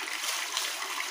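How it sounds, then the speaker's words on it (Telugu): Hot water splashes and streams from close by as it is poured into a container to mix dye for tie-and-dye work, a bright, hissy gush that stays steady for about a second. "వాటర్ పోసి కలపాలి."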